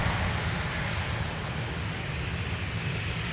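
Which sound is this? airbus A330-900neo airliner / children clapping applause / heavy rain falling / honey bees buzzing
airbus A330-900neo airliner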